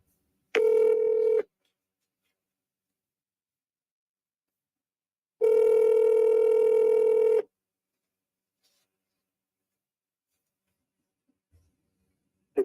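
Telephone dialing tones sound as two loud, steady bursts, a short one near the start and a longer one a few seconds later, separated by silence, with no talking.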